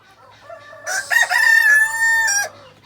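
A blue Cochin Bantam rooster crows once, near and loud, in a single long call about a second and a half, with faint quieter clucking before it in an outdoor bantam run.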